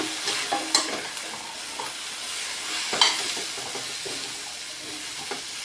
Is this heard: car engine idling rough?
no